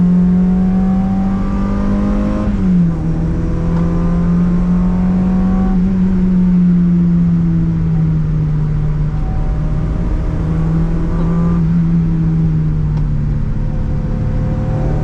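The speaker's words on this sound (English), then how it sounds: "Third gear, this will be a quick change out of third on the way out." A Mazda MX5 NA revs hard out of third gear on a lap of the Nürburgring Nordschleife. The engine note is loud and continuous from close inside the car, with a brief dip at the quick shift before it climbs again.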